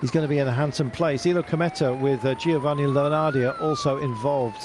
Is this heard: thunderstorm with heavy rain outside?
no